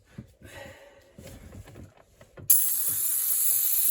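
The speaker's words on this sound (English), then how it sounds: "spray it down the chain like that" A few soft handling knocks, then a sudden, loud, continuous hiss of an aerosol can of chain lube spraying close by onto a chain.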